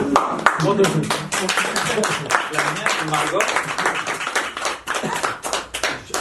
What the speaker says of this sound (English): These guys have done a great job. We should clap.